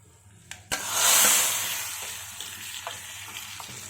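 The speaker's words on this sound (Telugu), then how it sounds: "ఇప్పుడు తాలింపు చేసుకుంటున్నాను నేను పప్పుచారు" Tempering of dried red chillies and curry leaves for tomato pappu charu dropped into hot oil, a sharp clatter and then a loud hissing sizzle that swells and slowly fades. A few light stirring taps follow, close up and with no voices.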